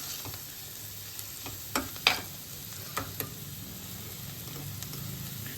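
Paneer bhurji with coriander powder and salt being stirred in a pan: a faint, low sizzle under a few light scrapes and taps of the spoon, sparse and close.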